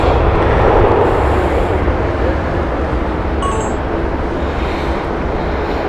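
Aircraft at Heathrow Airport produce a loud, continuous broadband roar that holds steady throughout, with no clear breaks.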